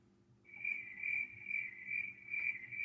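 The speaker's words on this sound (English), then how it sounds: "great. More crickets." Video game crickets chirping in a steady series of bright pulsing trills, repeated about five times at an even rhythm, soft and alone over a quiet low background hum.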